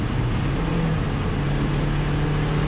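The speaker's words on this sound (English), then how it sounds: "Like you can really enjoy the accelerating from the mid-range," A Toyota MR-S with a TTE turbo kit accelerating through the mid-range, a dense, loud, steady engine and road roar with a faint rising tone, heard from inside the car without talk.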